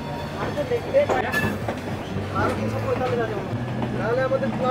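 Saraighat Express pulling out of Howrah station, a steady low rumble of the moving train with faint wheel clatter running throughout, while people talk nearby over the noise.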